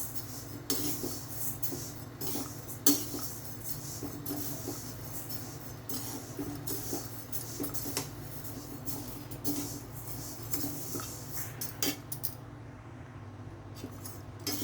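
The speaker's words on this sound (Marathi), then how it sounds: "आता मी इथे मूग डाळ घेतली आहे भाजायला" Moong dal dry-roasts in a pan, a faint, continuous rattle of lentils with light scraping clicks and occasional sharper knocks against the pan.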